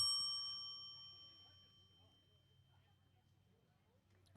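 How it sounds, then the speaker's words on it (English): A single bright bell ding timing pitches at a vintage baseball game, ringing out clearly and slowly decaying over a low outdoor background hum. "So these bells, they're actually timed correctly, just in case you think these pitches are coming too fast."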